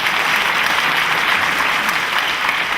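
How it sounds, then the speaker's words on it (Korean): A studio audience at a Korean public broadcast lecture claps steadily and densely throughout, a sustained wash of applause with no pauses. "박수 한번 주시죠"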